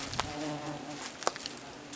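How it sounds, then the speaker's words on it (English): Bees buzz close by near a garage, a few passing drones flaring up and fading against a quiet outdoor background. "you can hear the bees all buzzing around"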